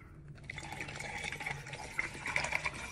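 Coconut water pours into a cup packed with ice, a steady, quiet liquid trickle with small splashes and clinks that grow slightly busier toward the end.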